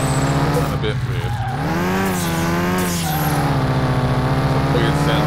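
A loud, steady car engine in the video game Car Mechanic Simulator 2021 drones with shifting pitch, rising and falling as the vehicle accelerates during an acceleration test, with a rough mechanical tone throughout.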